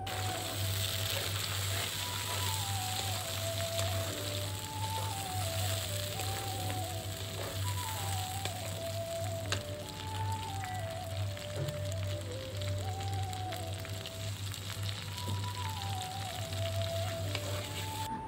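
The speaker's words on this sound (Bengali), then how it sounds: "এখন আমি ওই তেলের ভিতরে দিয়ে দিব কিছু পেঁয়াজ কুচি।" Chopped onion fries in the oil left from shallow-frying eggs for a Bengali egg curry, making a steady soft sizzle over a low hum with background music playing throughout.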